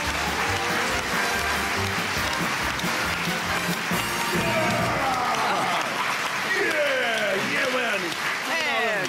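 A German TV studio audience on the show Zimmer frei claps to welcome a guest, steady loud applause with voices mixed in over the applause throughout.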